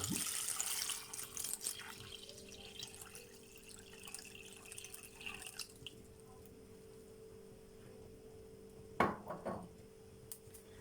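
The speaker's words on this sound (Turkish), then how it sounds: "Suyumu ekliyorum." Water pours and splashes into a pot of sour cherries, a steady wet rush that thins out, followed by a couple of light clinks near the end.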